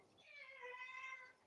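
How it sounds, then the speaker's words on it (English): A house cat gives a single drawn-out meow, clear and fairly close against a quiet indoor background. "You meow when you're down there."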